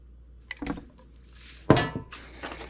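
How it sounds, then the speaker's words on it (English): An Esbit alcohol stove handled inside a small Crown Royal stuff sack gives a few light metallic clinks and taps, followed by a sharper clatter and a soft cloth rustle, close and fairly quiet. "in this little Crown Royal stuff sack, I've got an Esbit alcohol stove"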